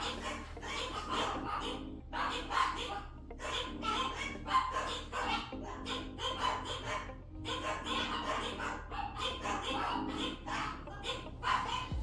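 Several dogs bark repeatedly in overlapping bursts, fairly close, over a steady low hum, with occasional yips mixed in.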